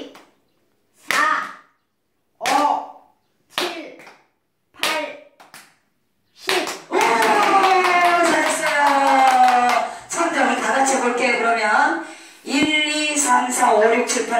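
People clap their hands in a 3-6-9 number game used as a brain exercise for dementia prevention. Separate claps land about a second apart, followed by louder mixed voices and sound.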